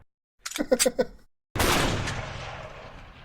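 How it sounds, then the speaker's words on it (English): A rapid cluster of gunshots cracks out, then after a brief silence a loud blast erupts and slowly fades away. "It's a lot of gunfire."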